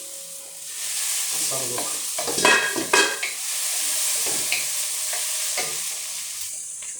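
Onions for beef keema sizzling in a pan, with a steady close fry and bursts of scraping as a spoon stirs them; someone speaks briefly over it.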